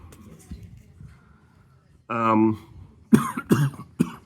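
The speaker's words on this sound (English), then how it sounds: "If I can stop coughing, that is." After a drawn-out voiced sound, several sharp coughs come in quick succession, loud and close.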